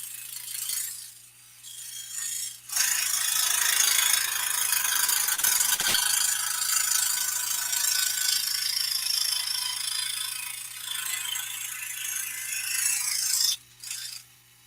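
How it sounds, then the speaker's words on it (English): A cutting tool bores a hole near the edge of a plexiglass table panel, a sustained harsh rasping whine that starts after a few seconds and runs steadily to near the end, close and loud. "let me cut a hole here"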